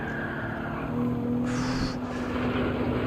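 Maserati MC20 in Gran Turismo 7 at the Nürburgring, a sustained engine tone holding a steady pitch with a brief higher whine partway through, moderately loud and with no voices.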